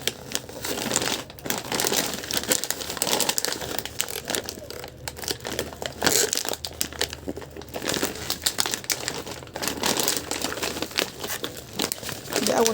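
A plastic bag of walnuts is handled and crinkled, producing dense, continuous crackling and rustling close to the listener for the whole stretch, with small pauses between bursts and no talk.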